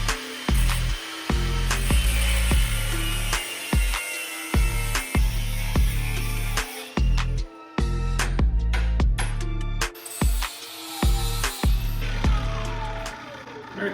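Cut-off wheel grinding through metal while fabricating a homemade transmission mount for a Jeep build, a loud continuous abrasive whine broken by repeated short pauses as the wheel is lifted and reapplied.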